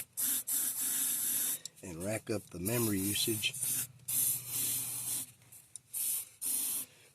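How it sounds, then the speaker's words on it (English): Penetrant spray hisses in bursts into the holes of a stuck 350 marine engine block during disassembly, a steady close broadband hiss broken by brief pauses, with a person talking over part of it. "I'm spraying some penetrant up in the holes"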